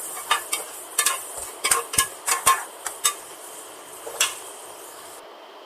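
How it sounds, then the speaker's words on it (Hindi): Chopped tomatoes and garlic-ginger paste sautéing for mutton pulao, with a spoon scraping and clinking against the pot in quick irregular strokes over a faint sizzle, close and clear, no talking. "2 बारीक कटे हुए टमाटर शामिल कर देंगे और इनको 1 मिनट तक भून लेंगे।"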